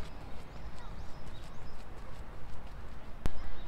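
Running footsteps on the ground during a running-form session, a quick, regular series of soft impacts over an outdoor background.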